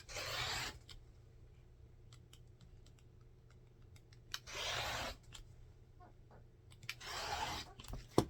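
Quilt border fabric strips being cut, with three long rasping strokes of a cutter through cotton separated by quiet pauses and small clicks, close and fairly soft, no talk.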